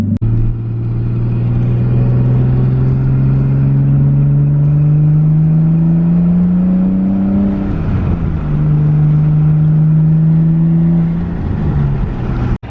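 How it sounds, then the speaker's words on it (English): A Nissan R32 Skyline with a front-mount intercooler drives by on the road, its turbo engine humming loudly and climbing steadily in pitch through the gears, a brief dip and shift midway, then pulling on again, heard alone. "Luckily for you guys, I'll be filming some turbo noises."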